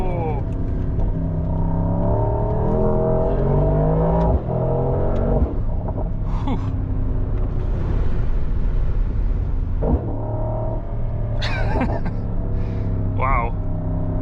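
The 4.0-liter V8 of a 2026 Mercedes-AMG GT 63 Pro revs hard on a mountain road, a loud continuous engine roar rising and falling in pitch from inside the cabin, with brief sharp crackles later.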